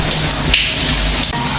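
Heavy rain pouring in a horror film scene, a dense, loud, continuous hiss of falling water with no voices.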